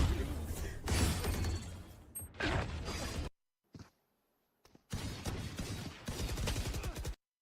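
Bursts of gunfire in a Valorant-style tactical shooter, loud broadband volleys in several clusters separated by brief silent gaps, with sharp shattering cracks among the shots.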